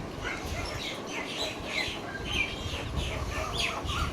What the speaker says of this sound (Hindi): सुबह सुबह जो है ना चिड़ियाओं की चहचहाहट कितनी अच्छी लग रही है